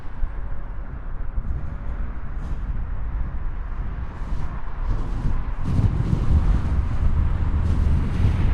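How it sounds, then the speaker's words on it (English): Strong wind buffets the microphone at Heathrow Airport in London, a steady loud rumbling roar that swells louder in the final seconds, with no voices. "Crazy windy."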